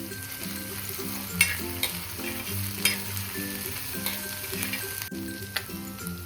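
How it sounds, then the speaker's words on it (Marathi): Crushed ridge gourd thecha with turmeric sautés in a pan, a steady close sizzle and frying hiss with a few soft stirring clicks and scrapes throughout. "हा ठेचा सुद्धा आता छान असा परतून घेऊयात।"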